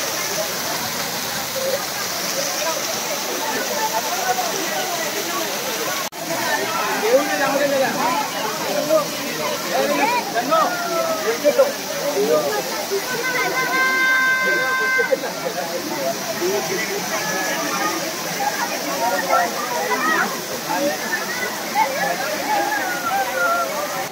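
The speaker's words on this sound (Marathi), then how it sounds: "आता आम्ही आलोय वॉटरफॉलच्या इथून खालती" Bhivpuri waterfall in Maharashtra, running low under cloudy skies, roars in a constant, full rush of falling water close by, with people talking over it.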